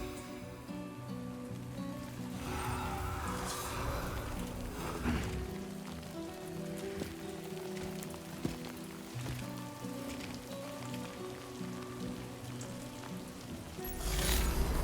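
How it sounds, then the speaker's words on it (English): Steady rain hissing across a desert landscape in the video game Death Stranding 2, a continuous wash of drops with faint musical tones underneath and a louder swell near the end. "For a desert, this is a lot of rain."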